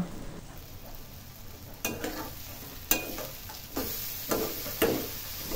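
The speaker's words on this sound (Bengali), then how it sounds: "বেশ কিছুক্ষণ পেঁয়াজগুলো তেলের সাথে নাড়তে থাকবো" Onions frying in oil for a shrimp curry, a low steady sizzle broken by several sharp clinks and scrapes of a spoon stirring the pan.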